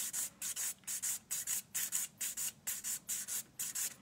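Nail file abrading CND Plexigel nail product, close-up quick rhythmic scratchy strokes, about a dozen evenly spaced passes of short bursts.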